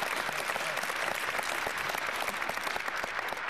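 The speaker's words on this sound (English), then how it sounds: "can we give Milt Peterson and the Peterson family a round of applause?" A crowd claps steadily and fairly loudly for a county executive's tribute to Milt Peterson and family, dense applause filling the whole stretch.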